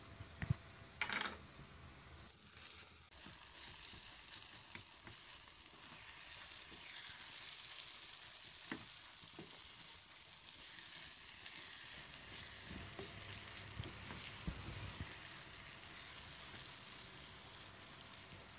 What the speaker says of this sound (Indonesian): Kita tumis bumbunya sampai setengah matang ya.